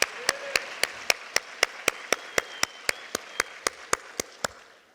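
A church congregation claps in steady unison, about twenty sharp, evenly spaced claps over a few seconds, close and clear above a quiet room.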